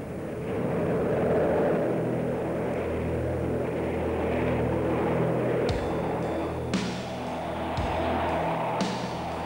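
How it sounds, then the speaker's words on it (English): Military jet turbojet engines rumble and roar during a runway roll, a sustained broad drone with a few sharp clanks on top. "we were firing up those turbojets for a roll down the runway"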